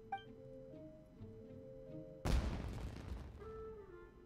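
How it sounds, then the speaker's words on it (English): A fireworks blast in the video game Genshin Impact bursts suddenly with a loud, deep boom over soft background music, then rumbles and crackles as it fades. "It sounded like fireworks."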